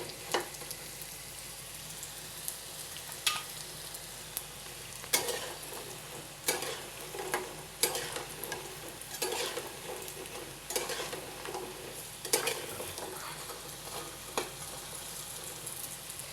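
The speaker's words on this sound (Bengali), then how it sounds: "একটু তেলের মধ্যে ভেজে নিচ্ছি" Jhinuk pitha, shell-shaped rice cakes in several colours, frying in shallow oil. The soft, steady sizzle runs throughout, with occasional light clicks and scrapes as the cakes are turned.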